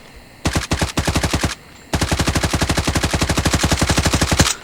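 Rapid automatic fire from a CR-56 AMAX rifle in a video game, two loud close bursts of evenly spaced shots, a short one and then a longer one after a brief pause.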